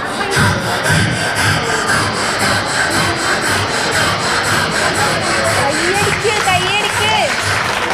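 A child vocally imitates old-style manual tree sawing, with rhythmic rasping strokes and whooshing tones delivered into a microphone at a relief camp, loud and close.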